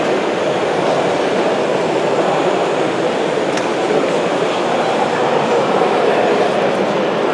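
A model train rumbles continuously on its track at a model railway exhibition, a loud, steady rolling roar with faint rhythmic clatter and no voices.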